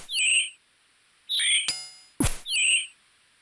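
Seagulls cry in the video game Old School RuneScape: three short, bright squawking calls spaced across the moment, with a couple of sharp clicks between them and no talk.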